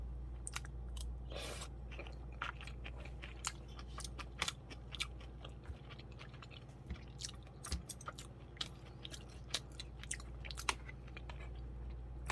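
Someone eats stir-fried kimchi up close, with quiet, moist chewing broken by frequent sharp crunchy clicks and smacks in an irregular rhythm, over a low steady background hum.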